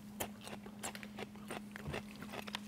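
A Lamson Modern ulu knife rocks through fresh celery, giving a run of close, crisp crunching cuts at an uneven rhythm, fairly quiet and with no voices over it.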